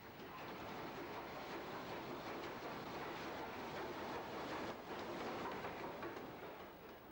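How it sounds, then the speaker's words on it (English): Steam locomotive City of Nottingham on the main line at New Street station, moving with its train: a steady, dense rumble and rolling rail noise with faint clatter, continuous and moderately distant, with no speech. "City of Nottingham runs round to join the head of her train."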